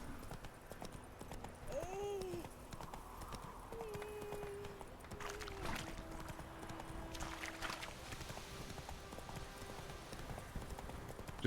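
Roach, the horse in The Witcher 3, gallops with steady rhythmic hoofbeats and gives a brief whinny early on, heard at moderate level over the game's ambient background.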